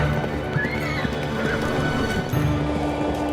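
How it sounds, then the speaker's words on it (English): Rocklaw, a great war horse, gives one shrill, wavering whinny near the start, then a shorter call, with clopping hooves and a low rumbling backdrop throughout. "he mounted upon Rocklaw, his great horse, and rode forth alone"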